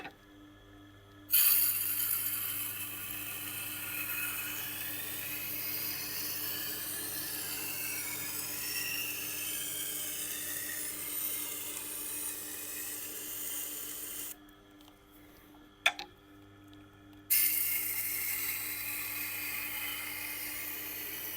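Victorinox knife blade held against the 80 grit stone of a Tormek T8 grinder, giving a steady, continuous grinding hiss over a low motor hum, broken by a brief pause near the end before resuming.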